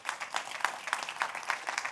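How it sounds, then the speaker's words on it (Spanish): A church congregation applauding, a sparse and rhythmic run of claps at moderate volume that sounds like a modest group clapping in loose unison. "Denle un aplauso fuerte al Señor."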